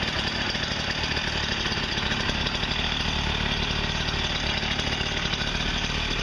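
A small two-stroke engine idles steadily after extra oil is cleared from the cylinder, a close, buzzing, chainsaw-like drone holding an even pitch and loudness without pause.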